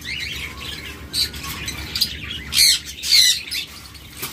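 A pair of caged pet birds offered for sale give sharp squawks and chirps, several short bright calls in quick succession over a steady background hum, with no talk.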